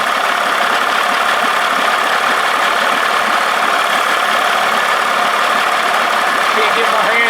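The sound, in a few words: 1979 Evinrude 55 hp outboard motor running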